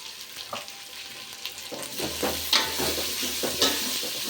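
Biryani masala frying in a rice pot for bagara rice makes a constant close sizzle, broken by irregular scraping knocks of a stirring spoon against the pot.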